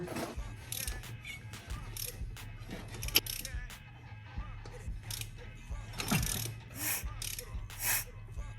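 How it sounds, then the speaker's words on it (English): SN95 Mustang engine being turned over by hand with a ratchet after a head install, with clicking pawl and mechanical ticks, clatter and faint knocks in a garage, repeating unevenly over several seconds. "so now we're just going to spin the motor over"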